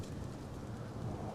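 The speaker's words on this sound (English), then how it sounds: "oh God, the storm." A steady, dense roar of heavy rain with a low thunder rumble, from a storm in the game Life Is Strange: Double Exposure, filling the space evenly with no voices.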